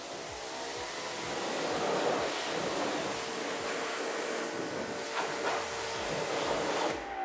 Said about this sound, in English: he's going to be starting with the pressure washer, keeping the tire cool